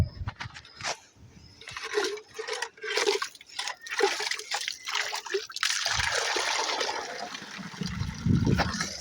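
Water begins flowing through a pipe, a gurgling, splashing trickle that builds into a steady rush with irregular spurts and sputters near at hand.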